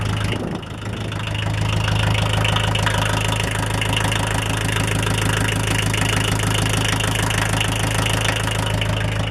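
Kubota L345DT diesel tractor engine idling steadily in the cold after a glow-plug start, a loud, even low rumble with a faint knocking texture that holds unbroken throughout with no talk.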